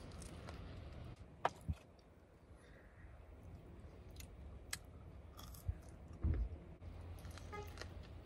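Someone chews and eats fries close to the microphone, with soft crunching bites and a few sharp clicks and rustles over a quiet room background.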